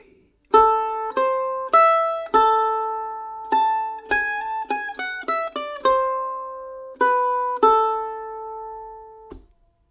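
Solo mandolin plays two phrases of the Swedish folk waltz Silkesvalsen, a steady three-beat melody of bright plucked notes with a quick run of short notes in the middle, close and clear with no voices.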